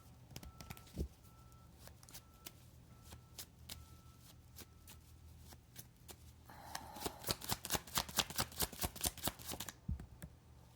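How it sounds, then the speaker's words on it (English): Tarot cards are shuffled back into the deck by hand: scattered soft taps and slides at first, then a quick run of crisp, evenly spaced riffling clicks, close and quiet, with no voices. "I'm putting everything back in the deck."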